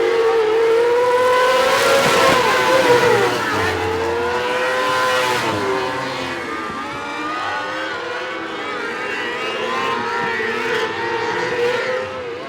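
Sprint cars on the final lap of a non-winged heat race roar past close by in a loud, continuous engine drone that swells and fades as the pack passes.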